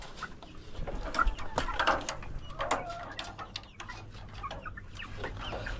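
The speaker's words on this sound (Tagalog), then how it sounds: "Tignan nyo mga kanaypi, kumakain na sila dyan oh. Mga manok natin." Chickens in battery cages cluck and murmur while they eat, with many overlapping soft calls and sharp clucks near and farther off, over low steady background noise.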